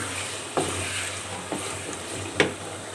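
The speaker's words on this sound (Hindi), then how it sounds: "मैंने अच्छी तरह से दही डाल के भून लिया है।" Mutton cooks with spices and curd in a pot, a steady soft sizzle and frying hiss with three brief stirring scrapes at intervals.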